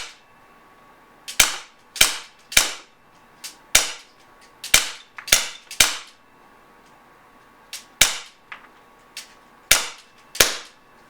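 Umarex Morph 3X 4.5mm CO2 air gun firing a string of sharp, snappy shots, alone and close, in irregular pairs and singles with short pauses between them.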